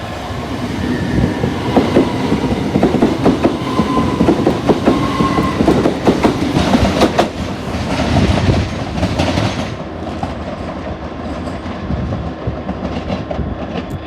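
A Class 375 electric multiple unit passes close by at Tonbridge station with loud clickety-clack over the rail joints and a rushing rumble. The noise fades to a softer roll as the train moves away.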